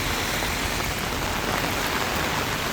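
Very heavy thunderstorm rain in the Philippines roars as a loud, dense, unbroken hiss of pouring water, steady from start to finish with no voices.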